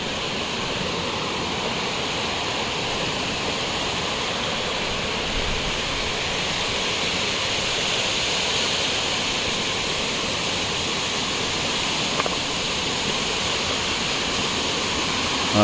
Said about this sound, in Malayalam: അപ്പോൾ ഇതുതന്നെയാണ് വെള്ളച്ചാട്ടം.